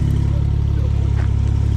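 A deep, rumbling 900 hp Porsche 992 engine idles steadily nearby with a throbbing low pulse and slight mechanical clatter, no voices.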